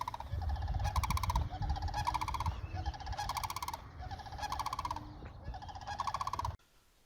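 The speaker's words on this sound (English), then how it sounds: "Listen to how absolutely cool these birds sound." Loud, repeated bird calls in rhythmic bursts in Florida, close and raucous, ringing out one after another before cutting off abruptly.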